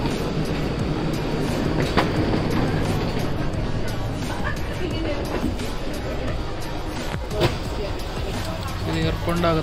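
A terminal-to-terminal metro train inside Dubai airport gives a loud, continuous rolling rumble with faint clicks and hiss, while a voice talks over it.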